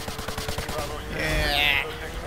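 Gunfire in Modern Warfare 2 Remastered, a rapid rhythmic string of loud shots followed by a swelling burst of combat noise, with a voice speaking alongside.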